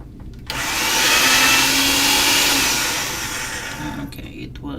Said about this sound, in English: now I'm going to get it on the thickest setting on the pasta machine